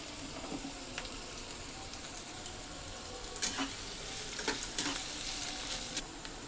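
Chopped capsicum frying in a pan over medium heat while being stirred, a steady close sizzle with scattered spatula scrapes and crackles throughout, no talk.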